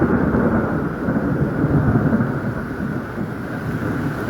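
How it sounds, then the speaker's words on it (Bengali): Heavy rain pouring steadily outdoors after a hot spell, a dense continuous roar with low rumbling that may be distant thunder or wind, no voices. "ভালো বৃষ্টি হইতেছে"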